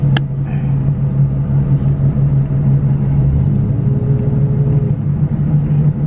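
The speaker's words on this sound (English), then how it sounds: "So I'm here on my test drive and so far it's going pretty good." A Toyota Tacoma on a test drive after a misfire problem gives a loud, steady engine hum and road rumble from inside the cab, with a low drone held throughout and no talk.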